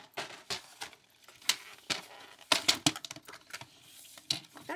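Paper being cut for a mini file folder, a run of crisp snipping and rustling clicks close by, uneven in rhythm, with no talk.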